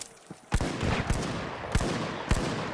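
R.357 revolver in The Finals fires several sharp, loud single shots spaced about a second apart, each with a short crack and ringing tail over steady background noise.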